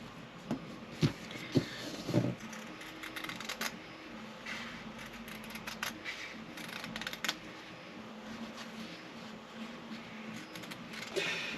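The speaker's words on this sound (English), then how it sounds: "You have to excuse the 3D printers whizzing away in the background here" 3D printers whir steadily in a workshop, a faint mechanical hum with soft clicks and taps running under the handling noise of a sewing project.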